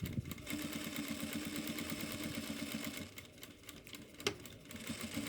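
Sewing machine stitching a mitred double border and backstitching, a quiet, even motor hum with fast needle pulses that slows and pauses, then a brief knock before it runs again.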